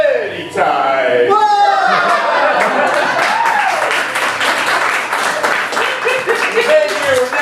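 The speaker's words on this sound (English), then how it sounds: "Now continue your applause" Loud, dense applause from an audience at a Dungeons & Dragons live event, continuous clapping with cheers and whoops rising over it, lasting throughout.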